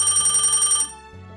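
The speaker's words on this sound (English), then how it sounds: "Oh, phone call." A telephone rings in quick repeated electronic bursts inside an izakaya before opening, loud and close, then cuts off near the end with only faint room tone remaining.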